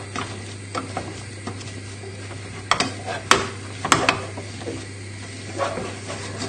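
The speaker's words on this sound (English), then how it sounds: "So just giving your potatoes a good mash." Potatoes being mashed by hand in a kitchen, with soft irregular squelching and scraping strokes and a few sharper clacks against the pot, over a steady low background hum.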